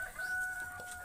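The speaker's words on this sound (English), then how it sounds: "The other house here has a brooding chicken, which you don't want to disturb it." Chickens on a farm, including a brooding hen, cluck steadily and fairly close by for about a second, with a sustained tonal call running underneath and no voices.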